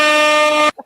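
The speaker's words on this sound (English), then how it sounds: "I'm gonna get Steve the air horn app for Christmas." A loud, blaring electronic air horn blast from a phone app, held for under a second, then cut off abruptly, followed by a brief faint sound.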